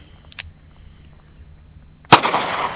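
A single sharp, loud crack from a Smith & Wesson Model 60 .357 Magnum snubnose revolver fires close by, its report ringing out into a lingering outdoor tail after a quiet lead-in with a faint click.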